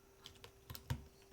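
A handful of scattered keystrokes on a Mode Sonnet mechanical keyboard, ending in one heavier, deeper spacebar thock, sound close and fairly soft in a quiet room.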